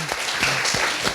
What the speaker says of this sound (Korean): 큰 박수로 네 모시겠습니다